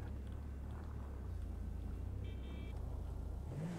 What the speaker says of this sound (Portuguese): Eu vou estacionar o carro aqui mesmo.